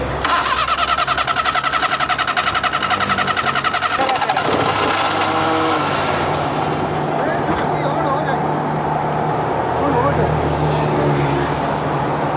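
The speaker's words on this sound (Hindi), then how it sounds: "मैं रेस देता हूँ हल्की सी इसकी" A car engine with a suspected fuel pump problem rattles into life and is given a light rev, a rapid pulsing beat that shifts into a rougher, uneven churn partway through, with voices faint in the background.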